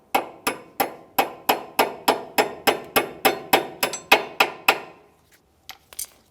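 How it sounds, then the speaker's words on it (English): Steady metallic hammer taps driving a cotter pin through on a Mitsubishi Lancer front strut assembly, about fifteen evenly spaced strikes close up, then a brief pause and a few lighter clicks. "Just use a hammer, tap this through."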